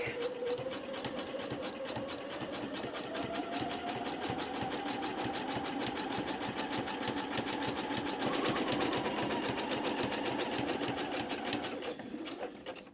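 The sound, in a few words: sewing machine sewing zigzag stitch on art quilt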